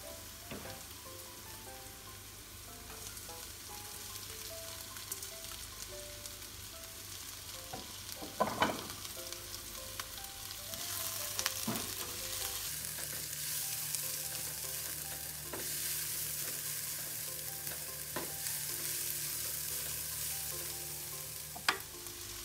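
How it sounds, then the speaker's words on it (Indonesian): Shallots and chili frying in a pan for an Indonesian stir-fry give a steady, close sizzle and crackle with a few sharper pops and stirring scrapes, heard alone throughout. "nah ini bawangnya sudah berubah warna dan harum banget lalu masukkan cabai"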